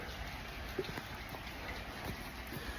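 Rain falls steadily in Tokyo, a soft, continuous patter with scattered sharper drops ticking on nearby surfaces, fairly quiet and with no voices.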